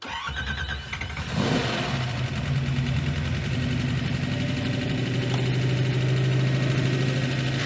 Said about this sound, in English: That is radically unacceptable lifter noise.